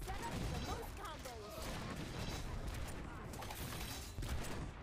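Bombs and explosive traps go off in the video game Orcs Must Die! Unchained, a dense, continuous barrage of booms and crackling blasts that overlap with chaotic battle noise for the whole stretch.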